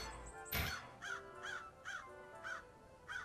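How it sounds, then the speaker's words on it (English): A bird calls in the fantasy video game Aveyond: Gates of Night with a crow-like caw repeated about six times at an even pace after one sharp opening hit, loud and close with no talking. "A bird appears to be waiting for us."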